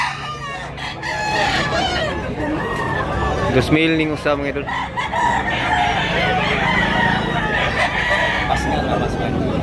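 Roosters crow repeatedly at a crowded fowl market in Tabunok, Cebu, loud, drawn-out calls from several birds close by, with someone speaking throughout and a busy crowd murmur behind.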